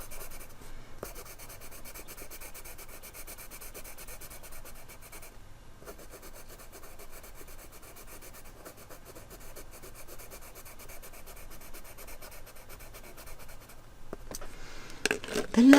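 Colored pencils swatched one after another on paper, giving a steady, close scratchy rasp of pencil strokes that runs continuously, with a few short pauses, and no talking.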